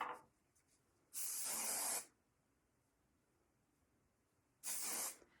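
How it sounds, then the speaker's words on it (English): Two close bursts of wig wax aerosol spray hiss, each about a second long, separated by quiet. "maybe some wig wax spray."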